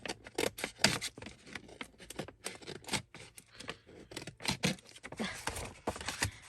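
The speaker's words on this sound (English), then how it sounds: "Cut across the bottom of this one." Scissors snip repeatedly across the bottom of a paper gift bag, a close, quiet series of crisp irregular cuts and rustles with no talk.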